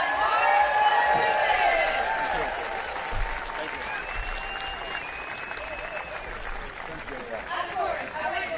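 Tennis crowd at an exhibition match applauding steadily, a broad wash of clapping with some cheers and voices mixed in, tapering slightly toward the end.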